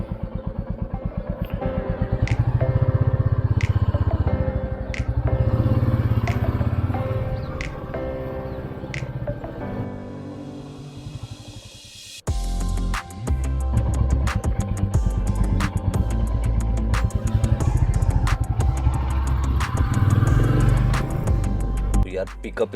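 Royal Enfield Classic 350 motorcycle on a road test ride, its steady low single-cylinder thump rumbling loudly throughout, briefly dipping before a harder pull with gear-change surges, punctuated by clicks and wind noise.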